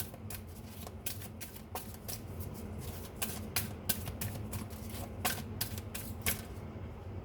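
Oracle cards being shuffled and drawn by hand, giving quick papery riffles and flicks in an irregular rhythm, close but soft, with no talking.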